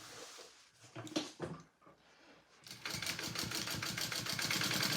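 A home sewing machine starts and stops in short bursts, then runs steadily with a fast, even mechanical stitching rhythm, close and fairly quiet, with no speech.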